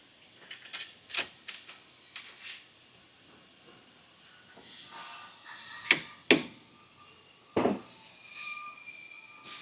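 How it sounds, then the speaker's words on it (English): Carriage bolts for a Ranch Armor rear bumper being seated on a Polaris Ranger 1500, heard as sharp metallic taps and scrapes in scattered clusters over a quiet background. "we're going to throw these carriage bolts in here. Usually like to seat them so they don't spin on you."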